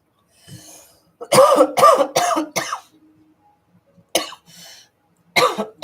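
A person coughs in several harsh bursts, then clears the throat, with short quiet gaps between and more coughing at the end.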